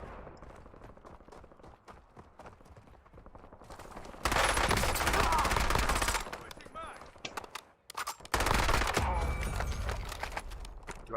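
Bursts of rapid automatic gunfire in Warzone, loud close strings of shots separated by quieter stretches with lighter scattered shots and faint movement.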